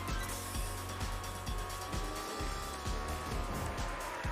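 Racing cars in the video game Hotshot Racing tear across a dirt track, engines droning loud and steady with rhythmic thumps and brief tire squeals layered over continuous revving.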